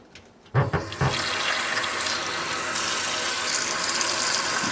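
Water runs steadily from a tap into a bowl, a continuous splashing rush that begins abruptly after a brief quiet moment and stays loud throughout.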